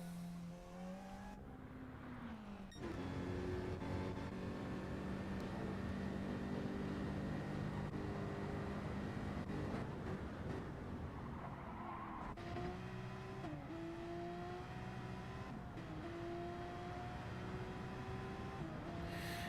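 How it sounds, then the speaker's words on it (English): A Porsche race car in an online racing video game league is short shifted, its engine note stepping up and dropping through repeated gear changes for about twenty seconds amid the hum of other cars, with no talk. "you can really hear Luke short shifting that Porsche too"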